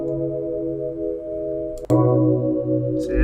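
A soft, ambient R&B electric key sample plays sustained chords without vintage wobble effects, a smooth tonal pad with a small click midway as the sound shifts, alone with no talking.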